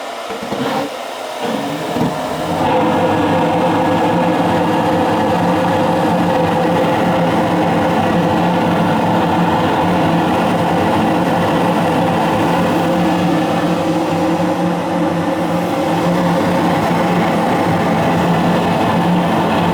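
A 90+ high-efficiency gas furnace that has trouble heating fires up: after a quiet couple of seconds, a loud, steady roaring whoosh of burner and blower sets in and runs on evenly to the end.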